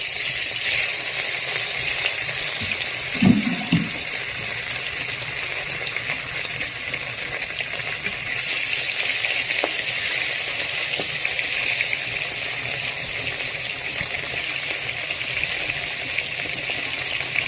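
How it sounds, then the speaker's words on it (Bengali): Fish frying in hot oil in a wok, a constant dense hiss that holds steady throughout, with a couple of brief clinks and knocks of utensils near the start. "তেল গরম হয়ে গেছে, এবার আমি মাছ দিয়ে দিচ্ছি।"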